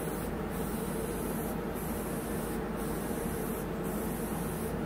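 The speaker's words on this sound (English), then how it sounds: "Here he's going to actually spray this area that we left untouched so we can show you how the touch-up actually performs" A touch-up spray gun hissing paint onto a surface in steady, continuous bursts, close and even, with faint periodic breaks in the spray.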